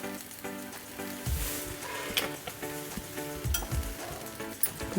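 Grated coconut gets stirred into sautéed greens in a pan with the stove off, a soft sizzle under scattered spoon scrapes and light stirring clatter, quiet and close.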